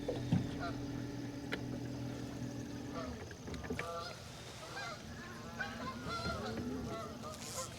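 Geese honk near a lake during an autumn fishing outing, scattered calls rising out of wind and water noise, moderately distant, with someone talking at times.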